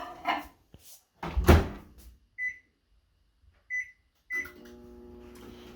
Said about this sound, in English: I'm going to stick it in the microwave for 1 minute